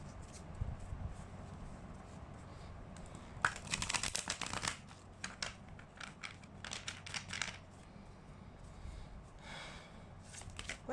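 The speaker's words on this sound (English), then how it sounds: "I'm gonna shuffle this a bit." Tarot cards shuffled by hand in a quiet room, with soft, irregular papery riffles and slides; a denser burst of card noise arrives in the middle before easing back into lighter intermittent handling.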